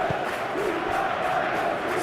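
A football video game crowd roars in a steady, dense wash of massed voices from the stands during an eFootball match, with no distinct calls standing out.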